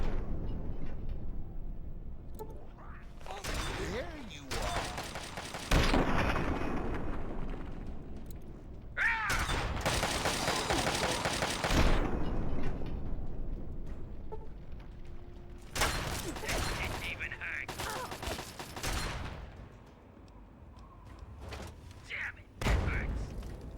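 Fallout 3 combat on PS3 with a frag grenade thrown and gunfire, loud bursts and blasts in several separate clusters, mixed with someone talking.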